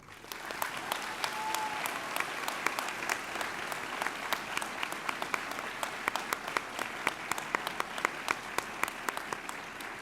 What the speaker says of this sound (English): let's give our biggest supporters the round of applause that they deserve